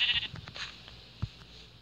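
Sheep in a survival video game bleat in a few short, faint calls spaced apart, with quiet game ambience between them.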